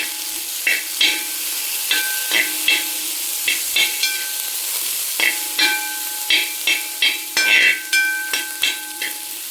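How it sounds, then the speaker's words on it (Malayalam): Lentils and chillies stirred in a pan make a steady run of close, rhythmic scraping strokes over a low, constant background hiss, with the strokes coming faster and louder toward the end. "ഇനി നമുക്ക് നന്നായിട്ട് ഇളക്കാം"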